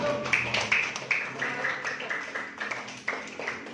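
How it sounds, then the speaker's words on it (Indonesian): A class of students claps together in a classroom, a few seconds of uneven, fairly close hand clapping with no voices. "Tepuk tangan lagi dong"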